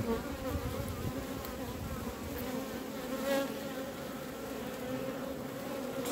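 Honeybees from a hive colony buzzing continuously close by, a droning hum with individual insects swelling louder as they pass near, no talking.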